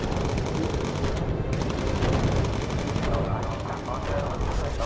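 Continuous rapid machine gun fire in the Bomber Crew video game, a dense unbroken rattle of shots with voices talking faintly underneath.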